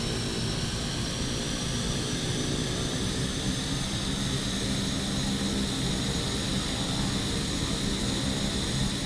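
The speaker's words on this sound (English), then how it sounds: "Listen to that engine startup sound" Pilatus PC-12 turboprop engine running after startup in Microsoft Flight Simulator, a constant loud turbine whine over a dense propeller roar, steady throughout with no voices.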